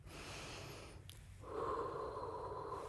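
Slow, deep breath drawn in through the nose, then let out through the mouth in a soft, steady airy rush, close and quiet with no talking.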